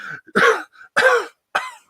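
Three harsh, throaty coughs come one after another at a steady pace, loud and close, with short silences between them.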